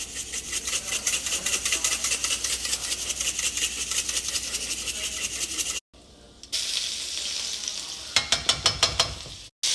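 Dried minced onion and minced garlic fry in a pan with a close, steady sizzle and rapid rhythmic scraping strokes, broken by a brief pause before the stirring resumes.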